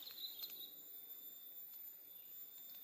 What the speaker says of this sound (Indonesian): apa ya namanya tuh, tonggeret kayaknya ini.